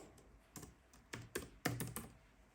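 Several quick keystrokes on a computer keyboard while entering a font name, close and fairly crisp, coming in short irregular bursts with pauses between them and no talking.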